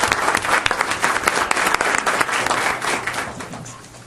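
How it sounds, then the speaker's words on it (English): Dense, steady applause from a city council meeting audience fills the room for about four seconds, loud and continuous before thinning slightly at the end. "let's give everybody a final round of applause."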